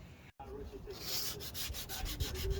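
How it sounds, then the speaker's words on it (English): Bondo body filler being hand-sanded on a rusted car's rear windshield frame area, giving steady rhythmic rubbing strokes, close and fairly quiet, that grow more regular as the sanding goes on. "Just sanding these last two little pieces that I put Bondo on"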